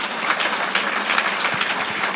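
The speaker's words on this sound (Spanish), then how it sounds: "Aplauso a Jesucristo." A Spanish-speaking church congregation applauds during a Sunday service, sustained dense clapping filling the space evenly from start to finish, loud and close.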